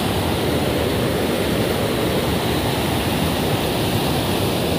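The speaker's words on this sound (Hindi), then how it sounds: "पानी देख सकते हो कितना आ रहा है यहाँ पे, अगर फिसला तो सीधे जाऊंगा नीचे भाई, पानी का प्रेशर बहुत है" Strong, heavy water pours down a village waterfall, a loud, steady, unbroken roar with no pauses.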